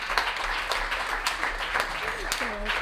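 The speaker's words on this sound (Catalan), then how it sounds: "Un aplaudiment." Applause from a studio audience during a Catalan radio show, steady moderate clapping with a voice speaking over it near the end.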